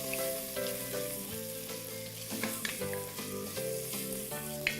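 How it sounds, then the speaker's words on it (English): Bacon strips fry in a pan, a quiet sizzle and crackle running beneath a melodic music track with sustained tones, fairly faint overall and with no voices. "Don't forget about your bacon, you don't want it to burn on you."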